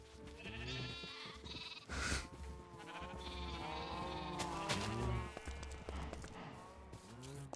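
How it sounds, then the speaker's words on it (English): Sheep in the Minecraft video game bleat repeatedly, several overlapping wavering calls in a steady chorus, fairly loud and close with no talk over them. "you guys think we got enough sheep now?"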